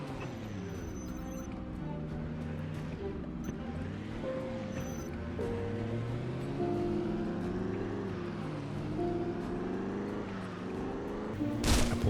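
A car engine in the video game Project Zomboid drones and revs continuously, its pitch rising and falling as it drives, with a brief burst of noise at the end.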